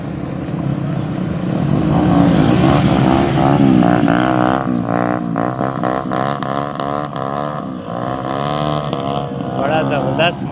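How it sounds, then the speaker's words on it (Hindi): Motorbikes ride along with horses at a horse race, a steady droning engine roar with fluctuating revving, close and loud, with wind buffeting the microphone and someone talking over it throughout. "ये देखो, आवाज़ भी सुन लो, बाइकों की आवाज़ और घोड़े की चाल,"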